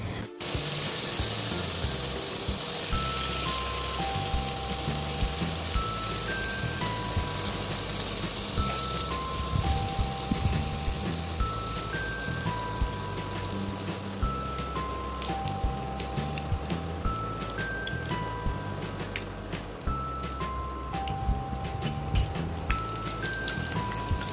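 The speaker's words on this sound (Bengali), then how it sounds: "তেলটা ভালোভাবে গরম হয়ে গেছে এবং এক এক করে যেটা মেখে রাখা ছিল সেটা দিয়ে দেওয়া হচ্ছে" A mixed batter goes piece by piece into hot oil for a quick evening snack, giving a steady, dense sizzle and crackle that continues evenly throughout with no talking.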